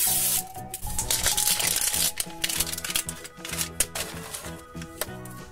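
Zipper on a toy blind bag being pulled open in a series of quick, rasping bursts, close to the microphone and without speech.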